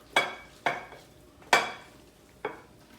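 A meat mixture for shepherd's pie spooned into a greased casserole dish, four separate soft scraping thuds spaced unevenly across a quiet background.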